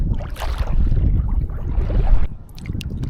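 Small water chop slapping against a kayak at night off Caladesi Island, with wind and an incoming tide pushing from behind, heard as steady, close, broadband sloshing and wash with some wind rumble and a few splashy gurgles near the end.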